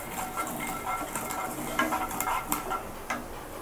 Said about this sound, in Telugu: జీలకర్ర, ఈ ఆవాలు కొంచెం చిట్పట అనివ్వాలి.